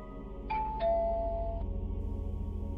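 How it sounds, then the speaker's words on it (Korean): A doorbell sounds one clear two-tone ding-dong chime, the second note lingering over a steady low drone. "곧이어 초인종 소리가"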